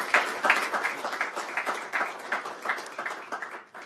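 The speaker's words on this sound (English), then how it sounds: "A big round of applause, please, for Michael Benarek" Applause from a modest seated audience welcoming a speaker at a Ryerson University government announcement, a rhythmic patter of individual claps that swells early and gradually thins toward the end, with no talking over it.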